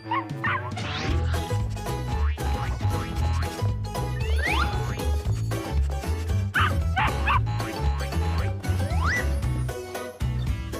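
Dog barking, yipping and whimpering over a busy bed of cartoon-style music and jingly sound effects, the barks loud and repeated throughout.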